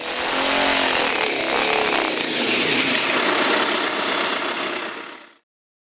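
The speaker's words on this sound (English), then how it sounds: "the Tinker Toy engine actually has a total of 49 cylinders" A 48-cylinder two-stroke motorcycle engine built from Tinker Toy parts runs loud and close, a dense, buzzy, rapid-firing drone holding steady for about five seconds before cutting off abruptly.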